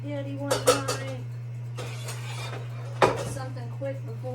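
Dishes, plates and pans are washed at a home sink: scattered clinks and clatters of crockery and cutlery, with one sharper knock near the end, over a constant low hum and running water.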